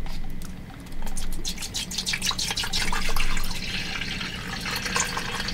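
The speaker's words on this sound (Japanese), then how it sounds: "今からこのケトルでお湯を沸かしてコーヒーを飲もうと思います" Water runs into a kettle, filled to boil for coffee, a splashy close trickle that pauses briefly, then pours more fully and steadily, with no talking.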